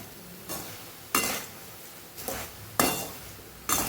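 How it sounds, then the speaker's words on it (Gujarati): Puffed rice (mamra) being roasted in a pan, with five scraping, rustling stirs spaced about a second apart, each a dry crisp swish fading out, moderately loud with no talk. "મમરા એકદમ સરસ ક્રિસ્પી થાય ત્યાં સુધી આપણે એને શેકી લેવાના છે"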